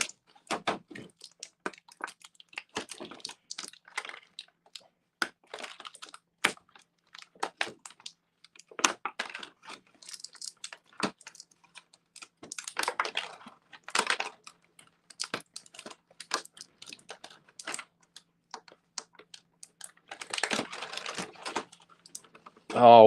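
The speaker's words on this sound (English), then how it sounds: "cut the tape there and pop out all these pieces first" Action figure pieces are popped out of plastic packaging during an unboxing, producing scattered crinkles, clicks and sharp plastic snaps, close and mostly quiet, with a louder burst near the end.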